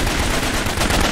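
Rapid gunfire crackles in the video game Raven Squad, a loud dense burst of shots running straight through the brief moment with no pauses.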